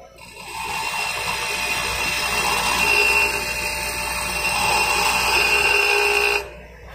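Grinding a high-speed steel (HSS) lathe tool bit on a bench grinder: a steady, loud whining grind with a tonal ring, running continuously for about six seconds before stopping abruptly.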